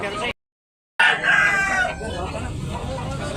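Rooster crowing close by at a chicken market in Tabunok, Talisay, Cebu, with a cut of silence before a loud crow and background market noise and voices.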